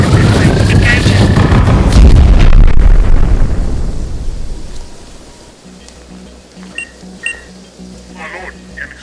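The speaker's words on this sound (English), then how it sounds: "My lord, an explosion." A self-destruct power component detonates in a loud, rumbling explosion with a dense burst of noise, then the blast slowly dies away into a low, fading rumble with scattered debris-like crackles.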